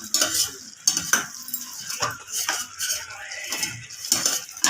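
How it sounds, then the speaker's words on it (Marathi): A metal spoon clinks and scrapes against a pan while chole masala is stirred into cooking chickpeas, with repeated bright clanks over a faint sizzle, close and fairly loud. "एवढा एक चमचा छोले मसाला टाकला"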